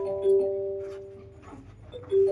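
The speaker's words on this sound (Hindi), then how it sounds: "अरे घंटी बज रही है" A phone ringtone plays a repeating melodic chime of sustained tones, muffled from inside a bag and moderately loud, with no talking.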